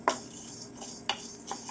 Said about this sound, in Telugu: ఇప్పుడు శనగపప్పు వేసుకుని వేపుకోవాలి